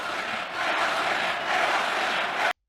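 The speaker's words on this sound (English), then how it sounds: "he hears the "where was he" chants" Large crowd at a 1992 political convention speech, a dense sustained roar of many voices chanting and cheering together, loud and continuous with swelling pulses before cutting off abruptly.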